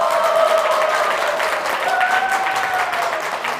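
Steady, dense audience applause fills a Buddhist overnight prayer gathering, close and loud, holding at an even level for several seconds without a break.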